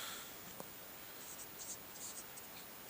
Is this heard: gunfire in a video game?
no